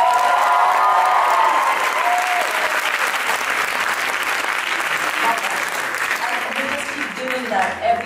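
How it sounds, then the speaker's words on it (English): Loud, sustained audience applause at a Bharatanatyam arangetram recital, a full hall of clapping with crowd voices and a few cheers mixed in, easing slightly toward the end. "Let's give one more round of applause."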